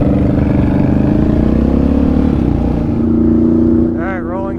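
Two ATV engines, a Raptor 700 and a Renegade 1000, drone loudly and steadily as they roll along in gear, the tone easing toward the end, while a voice talks over them.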